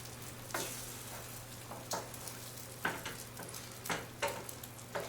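Fluffy omelette egg mixture sizzles softly in a pan under a steady low hum. Several brief scraping or stirring strokes recur at irregular intervals, with no talking.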